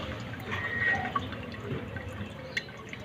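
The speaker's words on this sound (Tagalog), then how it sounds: "lahat na nakikita nyo tumutulo dyan, yan yung natitirang laman ng karburador ngayon" Gasoline dripping from a carburetor hose with a few distinct drops and trickling sounds over a low mechanical background hum, close by.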